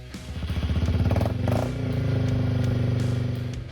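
Yamaha TW200, a lightweight motorcycle with a design largely unchanged since the late 1980s, its engine running with a steady, close, continuous drone that swells slightly early on and then holds even.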